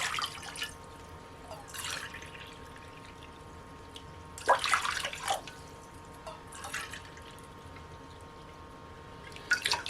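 Lukewarm water is poured into a 250-gram measuring cup while making homemade no-knead bread. It comes as several short splashing pours and drips separated by quiet pauses, close up and with no talk.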